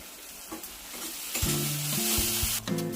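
Chopped tomato dropped into a hot pan of mutton masala with ginger-garlic paste and onion, bursting into loud, steady sizzling with a few stirring clatters, no voices.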